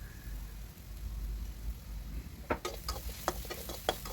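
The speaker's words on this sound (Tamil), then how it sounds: "இப்போ 1 கப்பு துருவன தேங்காயை சேர்த்து நல்லா சவுக்க விடுறேன்." Grated coconut in a hot pan gives off a steady low sizzle, then a spoon stirs it with a string of light scraping clicks close by.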